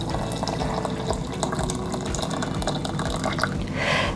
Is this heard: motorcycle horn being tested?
no